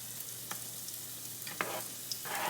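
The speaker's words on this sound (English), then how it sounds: "Here the meat is boiling the way I wanted it." Meat simmering in a thickening peanut butter gravy for Ecuadorian llapingacho, a steady close bubbling sizzle with a few soft pops and stirring clinks, no voices.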